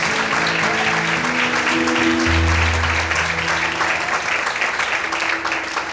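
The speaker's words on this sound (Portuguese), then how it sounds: "Quantos podem aplaudir e exaltar o Senhor nessa noite?" A church congregation claps together in praise of the Lord during an evening service, steady dense applause filling the room with organ or keyboard tones sustained underneath.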